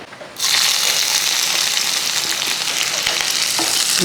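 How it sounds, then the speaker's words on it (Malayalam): Loud, steady sizzle as ginger and green chillies drop into hot oil with mustard seeds in a pan for an egg thoran, bursting in abruptly after a quieter start and holding close and continuous throughout. "ഒരല്പം ഇഞ്ചി ഇഞ്ചി ഒരുപാട് വേണ്ട ഇതേപോലെ ഞാൻ ഒരു ചെറിയ ടീസ്പൂൺ ഇഞ്ചി ഒരു മൂന്നാല് പച്ചമുളകും അതുകൂടെ അങ്ങോട്ട് ഇട്ട് കൊടുക്കുക"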